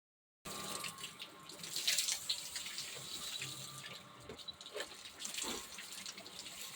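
Water runs from a tap in a steady splashing stream after a brief silence, with faint irregular splatter and drips nearby. No voices are heard.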